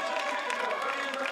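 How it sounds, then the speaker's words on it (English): Steady roar of applause and cheering from a large crowd at the 2015 World Pentathlon Championships in Berlin, a dense unbroken wash under a commentator's voice. "He's away and clear and enjoying the plaudits of this fabulous crowd here in"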